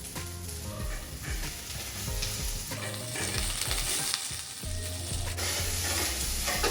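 Ginger and onion cubes frying in a pan for Mongolian chicken, a steady loud sizzle with clattering stirring and scraping throughout, close by and no talking.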